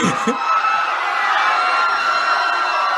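Crowd panic sound effect from a stock library, a dense, loud wash of many voices shouting and whooping together, with a sharp cry at the start, sustained steadily throughout and sounding more excited and cheery than fearful.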